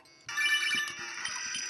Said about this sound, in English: We get a phone call